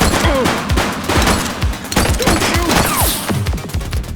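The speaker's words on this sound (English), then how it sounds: "He's shooting!" Rapid bursts of gunfire in the police video game The Precinct, a dense fusillade of sharp, loud shots with overlapping crashes and thuds, firing almost continuously throughout.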